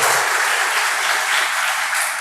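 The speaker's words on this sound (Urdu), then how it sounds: "پاکستان کی ٹینس چیمپئن اشنا سہیل، اس کے لیے تالیاں میں نوجوان نسل کو۔" An audience at a college scholarship event applauds a Pakistani women's tennis champion with loud, sustained clapping that fills the whole moment without pause.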